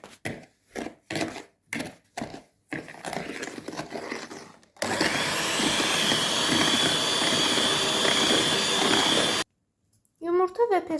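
An electric mixer whirs steadily at close range as it beats eggs and sugar for pancake batter, running for about five seconds before cutting off abruptly; clinks and kitchen handling come before it, and a voice speaks briefly at the end.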